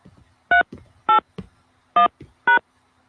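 Four separate telephone keypad DTMF tones punch in a conference-call access code, each short beep distinct and loud, with faint background noises between presses.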